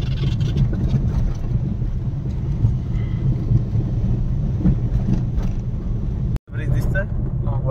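A car engine drones steadily while driving in third gear on a road during a driving lesson, continuous and close, with a brief dropout near the end and a voice talking over it.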